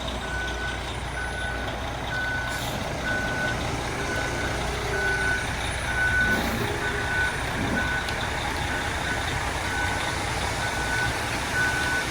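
Repeated reversing beeps from a concrete truck at a snowy, freezing pour site for a pole barn, steady evenly spaced tones over a constant engine rumble, moderately distant, no talk.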